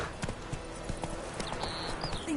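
Short run of distinct hoof clip-clops from Roach, the horse in The Witcher 3, evenly spaced and close over quiet game ambience, with a brief higher tone near the end.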